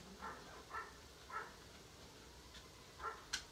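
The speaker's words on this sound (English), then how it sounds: "You hear our neighbor's dog barking there, don't worry." A neighbor's dog barks in the distance, around five faint, spaced barks heard indoors against a quiet background with no talking.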